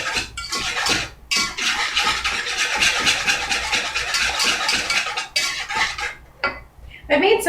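Metal whisk rattling steadily against a bowl while brownie batter with eggs is mixed, a dense run of quick scraping clicks that pauses briefly, with a short voice near the end.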